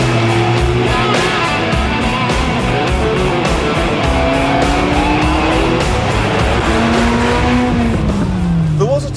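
A Ford Escort Cosworth drives through Dubai, its engine roaring loud and close with rising and falling pitch as it revs and shifts, tyres squealing under a voice speaking over it.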